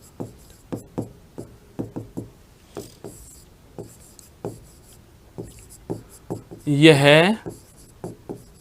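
Chalk or marker writing on a board in a Hindi lecture, a series of short sharp taps and strokes at uneven rhythm, with a brief spoken word midway.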